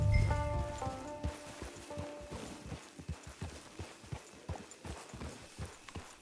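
Horse hooves clip-clopping at a steady walking rhythm in Red Dead Redemption 2, close and fairly clear, with a patter of rain beneath and a brief tonal swell at the start.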